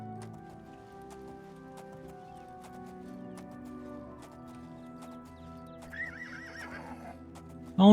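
A horse in the video game Oblivion neighs and whinnies near the end over soft clip-clopping hooves, all set against gentle ambient game music, with a sudden loud burst right at the close.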